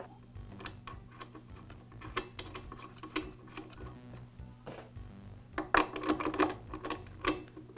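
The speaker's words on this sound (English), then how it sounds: "Now reinstall the spark plug." Small metal clicks and taps from a spark plug being reinstalled in an Echo leaf blower during a muffler repair, a close, quiet series of ticks and ratchet-like clicks with a brief busier cluster near the end.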